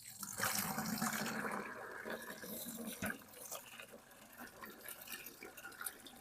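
Spring water pours steadily from a culvert into a container beside a lake bed at a tiny house community, a continuous rushing splash close by, with a brief knock partway through.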